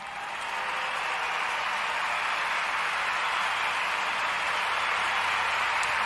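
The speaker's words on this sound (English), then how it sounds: "A round of applause for him" Steady, dense clapping from a crowd, sustained at an even level for several seconds with no voices over it.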